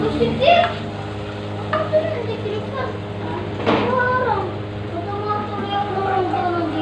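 Salmon belly sinigang with garlic being stirred in a pan, with a steady sizzle and soft scraping stir strokes throughout, a voice talking over the cooking.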